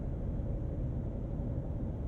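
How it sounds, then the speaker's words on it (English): Steady low road hum from 35-inch tires heard from inside a 2021 Ford F-250 Super Duty Tremor with a 7.3L V8 while driving, a constant muffled drone with no talking. "The 35-inch tire hum is not bad at all. You can hear it in the background,"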